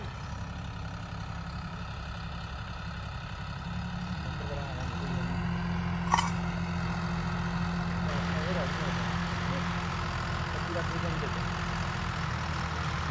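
A tractor engine idles steadily with a low, constant rumble throughout, a brief sharp knock midway, and some faint talk underneath.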